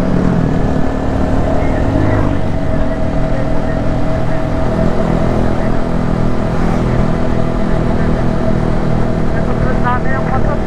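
Motorcycles ride along the Marilaque road, including a group of orange bikes, their engines making a steady, close, continuous drone that holds at a constant level throughout.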